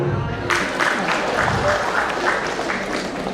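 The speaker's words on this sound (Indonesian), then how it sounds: "Tepuk tangan dulu." Crowd applause at a stand-up comedy show in Indonesia, breaking out suddenly and continuing as dense, steady clapping at full strength, with an excited crowd noise mixed in.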